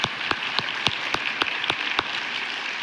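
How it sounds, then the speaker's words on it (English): Audience applause for volunteers at a talk on work and play, steady clapping with a few louder claps landing at a regular beat, moderate in level with no voices. "Everybody give them a round of applause"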